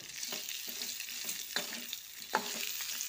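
Tamarind, a piece of ginger, rock salt and asafoetida are stirred in a hot pan for thuthuvalai chutney. A steady soft sizzle runs underneath periodic scraping strokes of the spoon, close by, with no voices.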